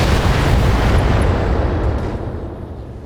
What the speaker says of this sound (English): Hit with the Gauss rifle.